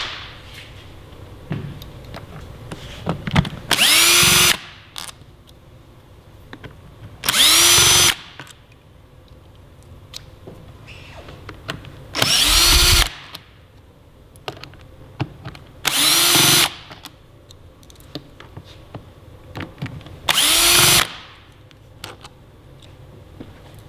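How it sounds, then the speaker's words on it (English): Five separate bursts of a cordless screw gun whirring as it drives fasteners on a 2017 Yamaha R6 block off plate, each lasting about a second, loud and close, with quiet handling clicks in the gaps. "A screw gun does that a lot easier than a screwdriver, especially when you're tightening them back down."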